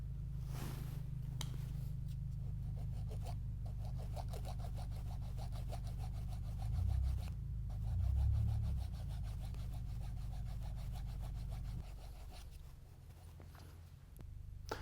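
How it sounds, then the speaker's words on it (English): Faint, fast scratchy rubbing strokes repeat over a low steady hum, a quiet rhythmic sanding sound close by, as sandpaper smooths a cork tenon on a clarinet. "use a piece of sandpaper or your sanding board and blend this little area right in here"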